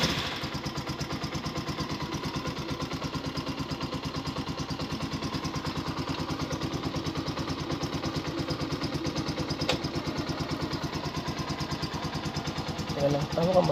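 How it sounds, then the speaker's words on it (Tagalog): A Honda TMX 125 motorcycle engine runs with a steady, rapid throbbing idle close by as the clutch is released, with someone talking over it. "Yung makina, yung tunog ng makina pag binibitawan nyo yung clutch."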